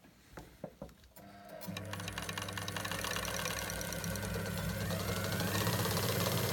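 A Willcox & Gibbs DC3 sewing machine starts with a few clunks, then runs up into a steady, fast mechanical whir with a rhythmic chatter, close and continuous.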